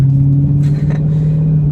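A Dodge Charger Daytona 392 engine, a close, loud, steady low rumble with a quick throttle blip partway through, heard alone without any talk.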